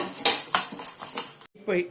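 Coriander seeds dry roasted in a pan, heard as a run of metallic clinks and scraping strokes of a utensil against the pan, several quick hits followed by a brief silence and one last stroke.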